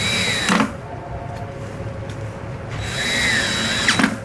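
Power drill driving wood screws into a seat to fix an anchor bar: a steady whirring motor runs throughout, with short louder bursts near the start and end, close by.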